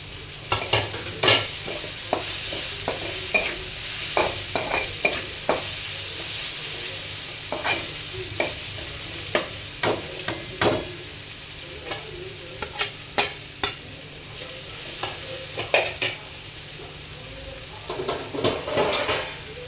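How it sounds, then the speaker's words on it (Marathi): Hakka noodles with salt being stirred in a hot pan, a spatula scraping and knocking against the metal in irregular bursts over a steady low sizzle, close and fairly loud, with no talk. "मीठ टाकल्यानंतर असं मिक्स करून घेऊ जरा."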